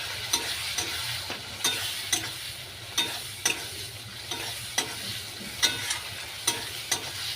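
Ginger garlic paste fries in a pan with a steady sizzle while a spoon stirs it, giving a regular series of close scraping strokes about twice a second, with no voices.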